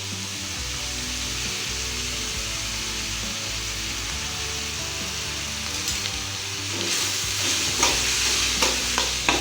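Capsicum stir-fried for egg vegetable noodles, a loud continuous sizzle and hiss close up, joined near the end by a run of quick scraping stirs against the pan, with no voices.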